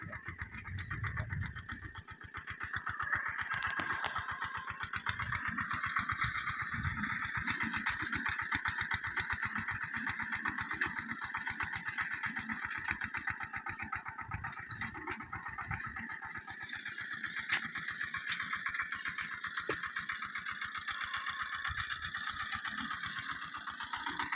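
A Vasudha Agro tractor engine runs steadily throughout, a continuous mid-pitched rumble with rapid rhythmic pulsing, close and fairly loud, with no talking.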